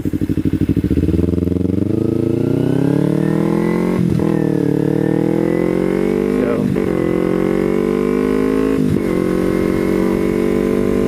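Motorcycle ridden at speed with a loud, close engine roaring steadily, rising in pitch through the gears with brief dips at each shift.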